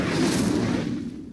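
Incendio fire spell cast in Hogwarts Legacy, a loud, dense burst of fiery roaring that lasts about a second and then tails off.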